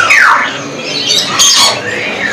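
A bird squawks loudly and harshly several times in quick succession, close by, with sharp rising and falling calls, at an Indonesian bird market selling parrots.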